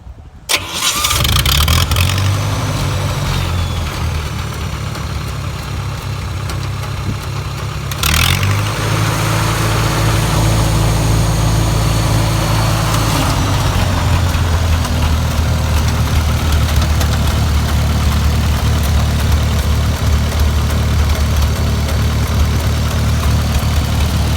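A Lincoln SA-200 engine-driven welder on a welding rig cranks and fires up, revs, then settles into a loud, steady idle close by, with no talking.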